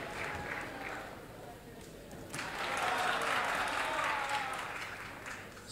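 Late applause breaks out from part of the crowd at a Rubik's Cube world championship in Paris, a faint earlier patter swelling into a broad, sustained clapping that fades slowly, with speech in the hall.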